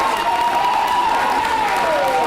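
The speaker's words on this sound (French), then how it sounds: "Allez, on l'acclame, on l'acclame." A theatre audience applauds Robespierre in a stage play about the French Revolution: a dense, continuous wash of clapping at full volume, with a voice carrying over it.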